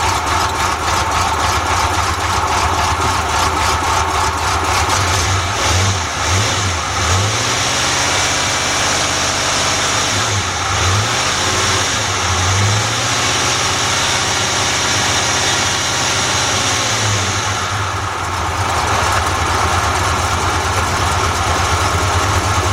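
A 1981 Chevy G10 van's 5.7-litre 350 V8 runs loud and close after a starter replacement, idling roughly from a poor carburetor, with several blips of revving.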